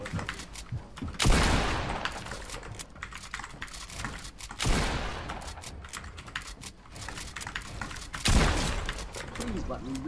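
Bursts of video game gunfire from a creative warrior match come in three loud clusters of rapid shots, each fading into a denser patter, with a voice talking faintly underneath.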